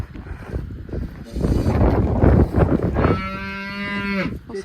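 Mother cows mooing inside a barn while it is being cleaned, a long, loud low moo rising near the end over wind and rustling.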